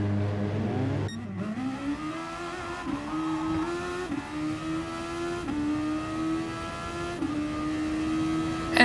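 A Super Formula car engine in Gran Turismo Sport at Bathurst, heading into the pits: a loud, high-pitched whine that repeatedly climbs and drops in stepped gear changes, running steadily for several seconds.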